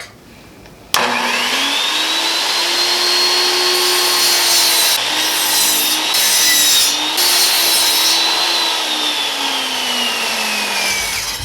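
A power saw cuts through a wooden side piece for a storage box. The motor kicks on abruptly into a loud, sustained whine with a rasping cutting tone that holds steady for ten seconds, with no talking.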